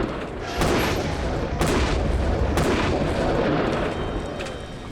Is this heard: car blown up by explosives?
yes